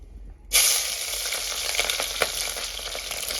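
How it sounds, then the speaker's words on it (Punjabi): Capsicum frying in a pan over a stove, a loud steady sizzle that bursts in suddenly and then holds, with faint stirring clicks underneath. "ਇਹਨੂੰ ਵੀ ਆਪਾਂ ਹਲਕੀ ਹਲਕੀ ਫਰਾਈ ਕਰ ਲਵਾਂਗੇ"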